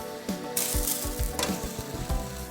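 Broccoli cooking with sausage and onion in a pan with added water, a crackling sizzle with bursts of hissing steam and occasional stirring knocks, no talk.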